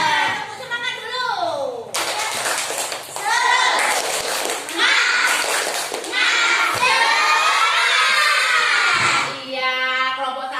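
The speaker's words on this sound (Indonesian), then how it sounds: "Tepuk semangat dulu." Schoolchildren in an Indonesian classroom cheer and shout in a loud, continuous burst, with scattered clapping and a teacher's voice mixed in across about ten seconds.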